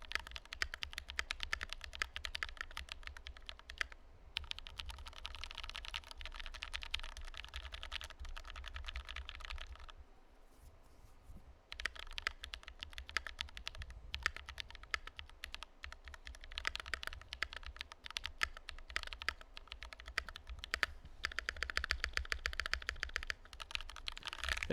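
Typing on a custom E-White Think 6.5 keyboard fitted with Panda switches: steady, close keystrokes clattering in dense bursts, with two brief pauses and no voices.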